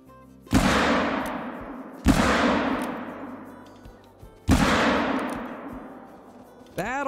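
Three loud handgun shots ring out at a charging female cape buffalo, each a sharp crack with a long ringing decay, spaced a couple of seconds apart, with a brief fourth burst near the end.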